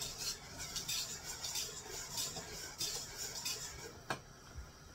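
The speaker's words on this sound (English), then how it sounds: "you're going to get it all stirred together" A utensil stirs chocolate syrup ingredients in a pot, soft repeated scraping and clinking strokes in a steady rhythm, close and fairly quiet, with one sharper knock near the end.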